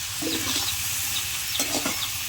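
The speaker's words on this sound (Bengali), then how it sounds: "আলুটা ভালো করে কষিয়ে নেব" Potatoes with onion, salt, chili powder and turmeric sizzle in a pan, with soft hissing frying and a couple of brief scraping stirs.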